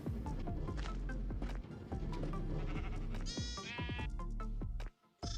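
Several sheep bleat in a Minecraft Pocket Edition wool farm, their overlapping, wavering bleats coming in quick succession. Soft clip-clop steps sound underneath, then a brief near-silent gap at the end.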